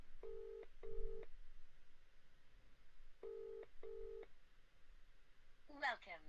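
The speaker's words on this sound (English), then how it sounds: "I'm gonna ring him again." Phone call ringing out on a speaker during a podcast stream, two pairs of evenly spaced ring tones separated by a pause, moderately loud and clear, with a brief voice-like burst at the end.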